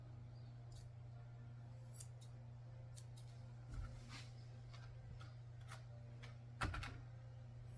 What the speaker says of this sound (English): I'm just trimming up around her ears with my straight scissors.